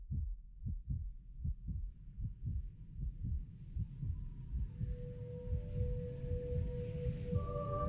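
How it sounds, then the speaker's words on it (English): Heartbeat in the video game Lifeless Moon, a slow, regular series of deep thumping pulses, loud and close, later joined by a low droning hum with a sustained tone rising near the end. "I'm hearing a heartbeat."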